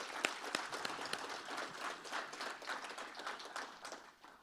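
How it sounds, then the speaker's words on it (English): An audience at a panel event on California's energy transition and agriculture applauds, a faint, steady patter of many hands clapping at a distance with a few sharper claps standing out. "Just give him one more round of applause."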